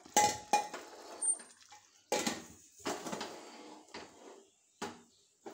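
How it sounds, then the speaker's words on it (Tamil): A pressure cooker lid being set and locked in place while cooking pepper chicken gravy, heard as a series of sharp metallic clanks and clatters in bursts, close and fairly loud, with no talking. "இப்போ நம்ம குக்கரை மூடிடும்"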